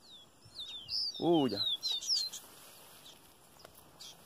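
A caboclinho seedeater singing a few clear, high whistled notes that slide downward, near and fairly loud, while someone speaks briefly to it in the background.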